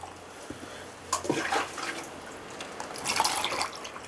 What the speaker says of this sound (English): and I'm going to pour the hot water in it.